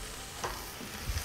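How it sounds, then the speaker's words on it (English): Greens being stir-fried in a very small pot rather than a wok give a faint, soft sizzle, with a couple of brief stirring scrapes near the end. "So basically what I'm doing here is I'm stir frying these greens."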